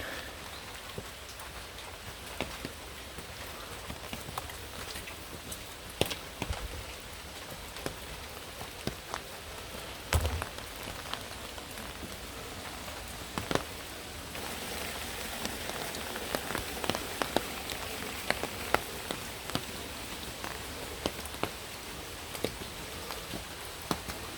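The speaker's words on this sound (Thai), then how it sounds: "อากาศฝนตกฟ้ามืดนะทุกคน" Steady rain falls at a hillside fox-deity shrine in Kyoto, a dense, even patter with scattered sharper drops ticking close by, with no voices.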